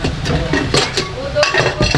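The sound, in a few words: stainless steel pressure cooker lids being handled, clinking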